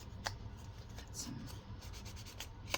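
Soft, quiet rubbing strokes of ink being dabbed onto an Amazon packaging cardboard journal cover, with a few sharper scuffs and no talking.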